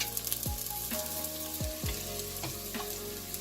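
Spices and garlic cloves frying in a pot for a one-pot vegan gluten-free pasta, a dense close sizzle with bubbling pops and repeated stirring scrapes, no voices over it.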